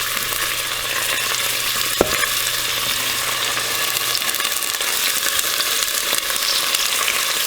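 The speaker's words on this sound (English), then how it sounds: "we will brown this alligator meat" Alligator meat browns and fries in a pan for Cajun-Creole gumbo, a dense, continuous sizzle up close with a sharp knock from the spatula partway through.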